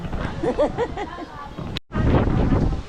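Strong wind buffets the microphone outdoors on Boracay, a rough roar under a voice that cuts out briefly and then returns as a steady gusting rush.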